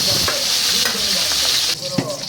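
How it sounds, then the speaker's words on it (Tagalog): Fried dried milkfish, daing na bangus, sizzles steadily in a hot pan while being flipped, with a soft scrape and clack partway through as the hiss briefly drops. "baliktarin na natin yung pinirito kong daing na bangus"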